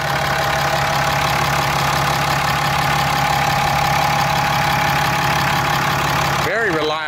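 Steady close-up idle of a 6.7-liter Cummins 24-valve turbo diesel inline six in a 2014 Ram 3500 dually, a loud continuous clattering rumble, with a brief voice breaking in at the very end.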